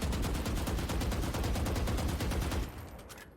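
Vandal rifle in the Valorant video game fires a rapid, evenly spaced stream of loud, sharp gunshots for about two and a half seconds, then stops abruptly and the sound fades.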